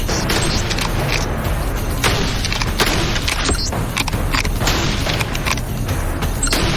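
Guns fire rounds at targets during a timed shooting trial, with several sharp shots standing out over a dense, steady roar of outdoor noise.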